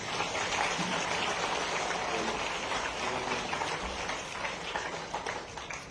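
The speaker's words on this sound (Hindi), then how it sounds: "क्रांति के लिए ताली बजाएं" An audience applauds steadily for cricketer Kranti Goud at a public gathering, a continuous hiss-like patter of many hands that holds for several seconds at moderate distance.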